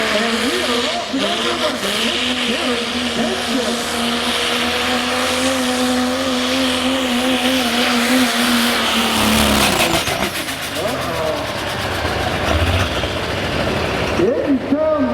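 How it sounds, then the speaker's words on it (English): Pulling truck with turbos at a speedway: a loud, close diesel engine revs up steadily in a rising roar, then drops and sputters, as an announcer talks over it. "You can hear the RPM coming up."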